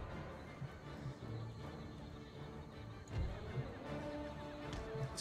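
Cavalry horses neigh and whinny in the battle game Empire Total War, several calls scattered over a low background of battle noise and hoof clatter, moderately faint and with no voices.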